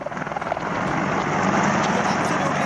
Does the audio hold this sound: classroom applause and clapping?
no